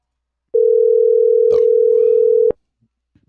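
A telephone call rings out as one steady electronic ringback tone lasting about two seconds, with a faint click in the middle, then quiet.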